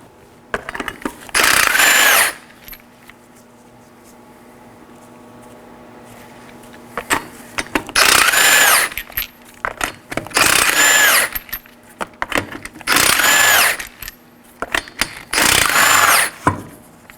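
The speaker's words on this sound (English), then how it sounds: "You're going to want to use a 21mm socket to remove these 5 21mm lug nuts." A tool spins off the 21mm lug nuts on a 2013-2019 Nissan Sentra wheel in five loud, close bursts. A quiet pause with a low steady hum separates the first burst from the rest.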